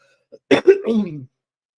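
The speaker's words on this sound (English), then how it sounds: "Let me clear my throat" A short, gravelly throat clearing up close, a quick rasp followed by a longer voiced rumble, with silence around it.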